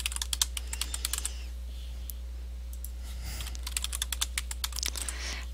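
Password typed on a computer keyboard: bursts of quick, close key clicks, a pause in the middle, then another run of rapid keystrokes over a low steady background hum.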